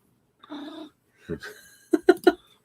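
An older pet cat making soft, close vocal noises indoors: a short drawn-out murmur, a pause, then a quick run of three chirping, cooing calls, quiet and alone.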